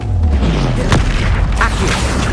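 A Bombarda explosion spell cast in the video game Hogwarts Legacy, a loud, deep booming blast with a rumbling low end that fills the whole moment.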